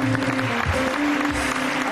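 A game show studio audience claps steadily for a couple of seconds, crowd applause mixed with a sustained musical tone and low rumbles underneath.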